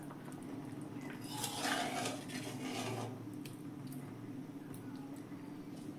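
Thick cooked dal of pigeon pea and mung lentils with water spinach is poured from a cooking pot. A soft, wet slosh with light metallic scraping lasts about two seconds, then fades to quiet kitchen room tone.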